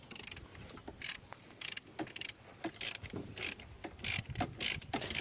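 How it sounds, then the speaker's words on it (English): Bolts being undone with a ratchet tool, heard as a series of quick clicking ratchet strokes in irregular bursts, fairly close and quiet, with no talking. "I'm just taking the second lot of the bolts off now"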